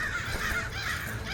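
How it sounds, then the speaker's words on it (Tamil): Several crows caw harshly and continuously inside a palace, their calls overlapping at steady loudness with no talking. "இந்த காக்காவெல்லாம் வெளியில விரட்டு."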